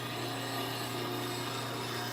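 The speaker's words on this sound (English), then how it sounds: "low-speed grinder" Low-speed grinder fitted with CBN wheels running steadily in a woodturning workshop, a constant even hum with a faint whine and no talk over it.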